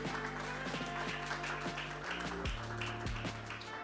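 An audience applauds steadily throughout at a moderate distance, a dense, even wash of clapping that stays at a constant level, with low rumbling sounds underneath.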